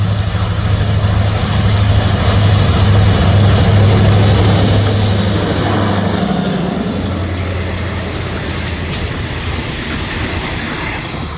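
An Alstom 4106 diesel locomotive hauling a passenger train throttles up loudly nearby, with a deep steady engine drone, rail clatter and wheel noise filling the whole stretch and easing slightly toward the end.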